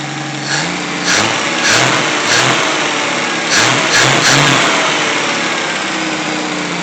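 A 1964 Pontiac Tempest inline six with a newly changed carburetor revs in repeated throttle bursts, loud and close, rising and falling over a steady idle with no talking.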